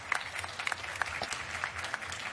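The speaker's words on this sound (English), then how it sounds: "Another round of applause for you." Applause from the audience at a sustainability pitch-battle event, a moderate, steady patter of clapping with scattered sharper claps, slightly distant and continuous for a couple of seconds.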